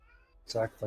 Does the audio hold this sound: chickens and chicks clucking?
no